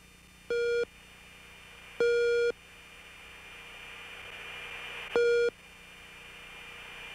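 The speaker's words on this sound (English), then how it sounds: "Those are raw gear, RWR, radar warning receiver tones." Radar warning receiver tones in a fighter jet cockpit during a Desert Storm engagement: three separate steady electronic beeps, each about half a second long, spaced irregularly over a low hum.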